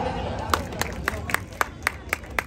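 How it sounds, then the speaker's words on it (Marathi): Spectators clap at a bodybuilding posing show in Manvelpada, giving a steady run of sharp, evenly spaced claps over a busy crowd background with a voice talking. "प्रत्येक पोजला टाळ्या झाली पाहिजे"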